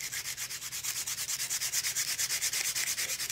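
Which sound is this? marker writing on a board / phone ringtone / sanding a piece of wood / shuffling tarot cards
sanding a piece of wood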